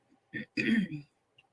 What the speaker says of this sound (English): So y'all might hear me clear my throat and sniffle a little bit.